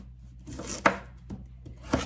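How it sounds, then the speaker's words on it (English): A Chef Pro knife chops through sweet potato on a board, several crisp separate knocks at uneven intervals with no talk. "taking my Chef Pro knife, moving my fingers out of the way, we are just going to chop through our sweet potato"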